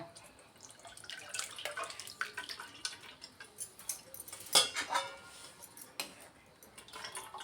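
Jeera juice mixture strained through a kitchen strainer, giving a faint, close patter of liquid drips and small trickles with occasional light clinks against the vessel.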